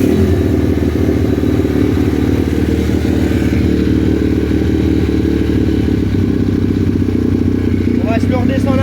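A 150 YX V3 dirt bike engine idles a little high, a loud, steady mechanical putter running continuously close by with a slight clatter.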